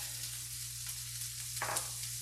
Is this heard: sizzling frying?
yes